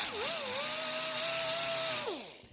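Grinder whining steadily against the rusty brake rotor of a 2018 Lexus ES 350 during a rear brake job, a loud close tone that dips at the start, holds level for about two seconds, then falls away as the tool eases off.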